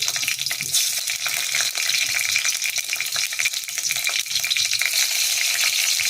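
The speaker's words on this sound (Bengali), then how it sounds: "আমি আজকে এখানে 5 ফোড়ন দিচ্ছি।" Panch phoron, a Bengali five-spice mix, sizzles and crackles in hot oil in a pan, a loud, close, continuous hiss with small pops and stirring scrapes throughout.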